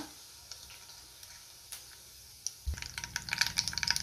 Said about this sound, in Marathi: तेल गरम झाले, तेलामध्ये मी मोहरी घालते, त्यातच आपल्याला जिरे घालायचे।